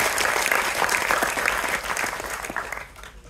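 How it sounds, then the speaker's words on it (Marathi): An audience at a college inauguration event in a hall breaks into loud, sustained applause, dense clapping that holds steady and then tapers off toward the end. "त्या मुलांसाठी एकदा जोरदार टाळ्या वाजवा की त्यांनी हे ऍडमिशन मिळवलं"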